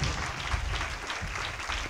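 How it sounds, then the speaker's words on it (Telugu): A church congregation clapping their hands together during Sunday worship, dense continuous applause from many people close by, filling the short moment without talk. "చప్పట్లు కొట్టి దేవుని కనపరుస్తాను"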